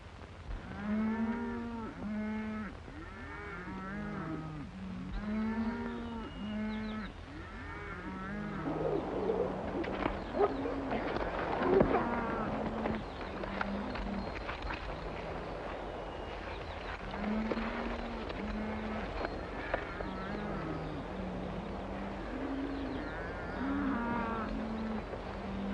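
Cattle low repeatedly through the first half and again near the end, a herd mooing in overlapping calls at moderate distance amid a cattle drive scene, with bird cooing and background clatter in between.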